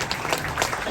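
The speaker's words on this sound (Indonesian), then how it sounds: "Tepuk tangan untuk beliau." Applause for Indonesian state-owned enterprises minister Erick Thohir at a Jasa Raharja staff dialogue in North Sumatra, a short burst of lively, close clapping from an indoor audience.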